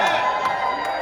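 A crowd at the Super73 electric motorcycle launch event cheers and whoops in a sustained, fairly loud wash of voices, with a few sharper shouts rising out of it.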